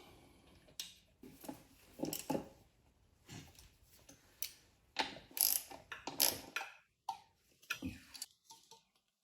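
Bolts being run in on a fuel line bracket during engine assembly on a 2002 Suzuki Carry, heard as a series of close, irregular ratchet clicks and metallic tool bursts separated by short pauses.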